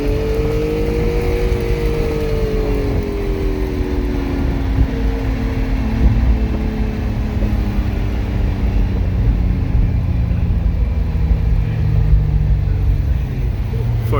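Acura NSX pace car pulling hard on throttle downhill on the Long Beach Grand Prix street circuit, a loud steady engine drone with a slowly falling pitch, heard from inside under a driver's voice.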